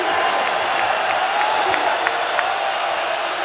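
Arena crowd at a Kentucky versus Arkansas basketball game, a loud steady roar of many voices with faint scattered claps and shouts, sustained throughout.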